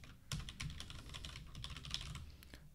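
Steady typing on a computer keyboard while coding an Apollo Client paginated-list query, with rapid, close-up key clicks running continuously for a few seconds and no voices.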